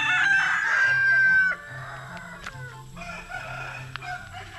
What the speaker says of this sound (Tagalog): And eto, mga manok.